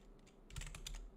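Quick bursts of keystrokes on a computer keyboard, a handful of soft clicks in a short flurry, faint and close in a quiet room.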